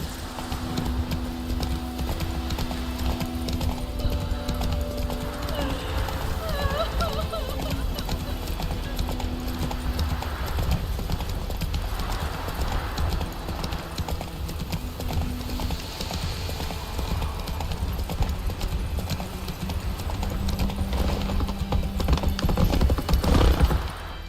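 Horse galloping in The Witcher 3 video game: steady clip-clop hoofbeats run throughout under game music and ambience, with a brief whinny and occasional game voices mixed in.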